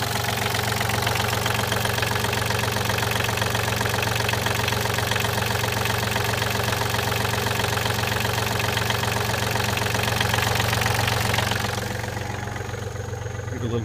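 A 3-cylinder Yanmar diesel engine idles with a steady, even knock, loud and close, running unchanged for about twelve seconds before easing down near the end.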